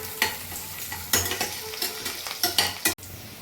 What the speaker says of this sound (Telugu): గ్రీన్ చిల్లీ, ఆనియన్స్ ఫ్రై అయ్యాక క్యాజూ నట్స్ వేసుకొని మరి కొంతసేపు ఫ్రై చేసుకోవాలి